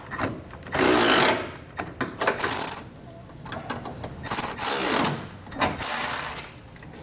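Bolts on a Firestone Ride-Rite air helper spring flange being snugged down with a 7/32 Allen key and a 9/16 wrench, fitted to a 2022 Chevrolet, give bursts of close metallic ratcheting and clicking that come and go over several seconds.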